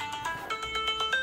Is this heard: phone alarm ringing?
yes